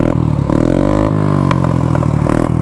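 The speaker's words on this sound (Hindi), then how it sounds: "सुपर बाइक जैसे साउंड कर रही है भाई स्कूटी" A Yamaha Fascino scooter engine revs hard through a loud, raspy modified exhaust with the dB killer removed, pitch rising and falling with each throttle blip, close by.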